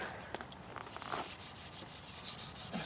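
A green scuff pad scrubbing the header pipes of a Suzuki Bandit 1250 motorcycle, giving quiet, continuous rubbing strokes up close with no talk.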